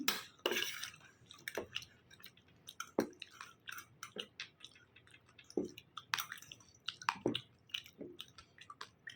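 A meal of fried food and soupy bottle gourd greens being eaten, close and fairly quiet, with repeated wet chewing, squishy bites and occasional light clinks of dishes in an irregular rhythm, no talking.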